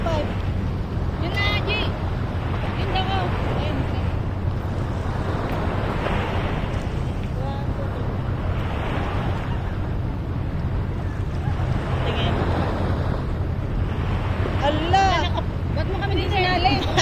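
Wind and sea waves at a shoreline at sunset roll in as a steady broadband rush with gusting microphone wind, while people chat over it.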